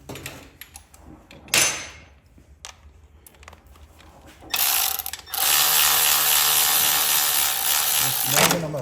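A Milwaukee power ratchet tightens breather bolts on the intake of a 2023 Harley-Davidson FLHXS, with short whirring bursts and clicks giving way to a long, loud continuous run near the end, with quieter handling noises between.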